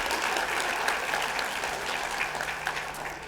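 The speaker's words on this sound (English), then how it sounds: "Let's give them a round of applause first of all" Audience applause at a 2021 high school summa graduation ceremony, many hands clapping in a sustained, full wash that softens slightly toward the end.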